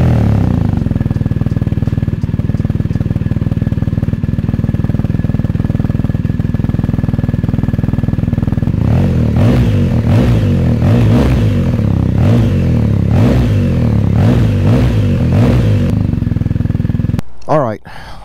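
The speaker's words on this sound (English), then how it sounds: "This is now the first cold start after the BT-MOTO Flash was complete on my 2022 BMW R1250 GS." A 2022 BMW R1250 GS motorcycle with a freshly flashed Stage 1 tune starts from cold, its engine running loud and steady, then blipped in a series of rhythmic revs before cutting off near the end.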